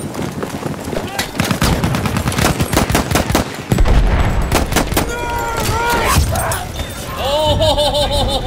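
In Battlefield 1, dense machine-gun fire rattles before a building blows apart with a heavy crash, then debris and battle noise continue while a voice shouts and laughs over the chaos.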